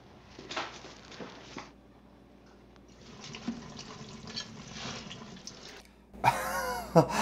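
Tap water runs and splashes in a kitchen sink as a cutting board is rinsed, in fairly quiet, uneven bursts with clattering handling and a louder splashy rush near the end.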